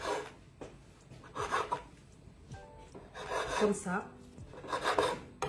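A knife trims the crusts from a slice of sandwich bread that has been rolled flat, giving close, rasping sawing strokes in short bursts with a brief spoken remark.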